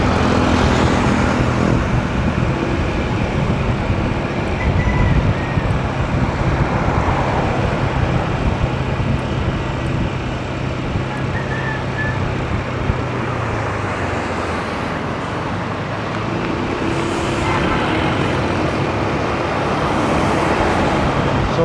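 Vehicles pass on a road beside flyover concreting construction on a May 1 holiday, a continuous traffic rumble with individual passes swelling and fading, fairly loud and close.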